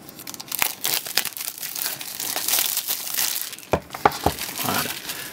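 Cellophane wrapping on an iPhone 5s Gold 64 GB box is torn open up close, giving loud crinkling and crackling bursts with a few sharp snaps near the end and no voices.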